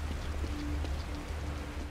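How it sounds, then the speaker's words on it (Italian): Steady rain falling in the horror video game The Evil Within, a dense, even hiss of drops with low rumbling ambience underneath, continuous and close. "La pioggia laverà via ogni prova."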